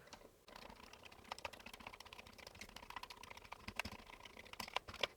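Keys on a Commodore 64 keyboard are pressed one after another during a key test, giving a quick, uneven run of soft clicks and taps heard up close in a quiet room.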